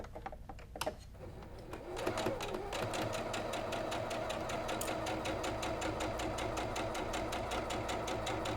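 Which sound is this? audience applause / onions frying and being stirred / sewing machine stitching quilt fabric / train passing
sewing machine stitching quilt fabric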